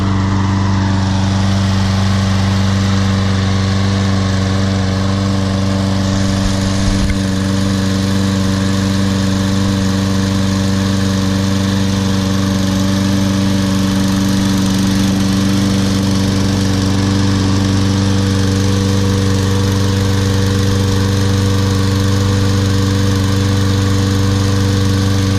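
Toro Recycler SmartStow model 20339 lawn mower running, a loud, steady close-up engine drone with a strong low hum holding evenly throughout.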